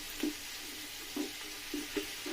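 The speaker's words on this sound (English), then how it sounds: "So I'm going to mix all that together." Homemade jollof rice ingredients with assorted meat being stirred together in a hot pot: a steady close sizzling hiss with about five uneven scraping strokes of the spoon, and no talking.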